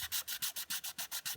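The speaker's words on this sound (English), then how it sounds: "So just sand it all, give it a good scuff." Sandpaper scuffing the surface of a cured resin coaster, a close, steady back-and-forth rasp of about nine even strokes with no voices.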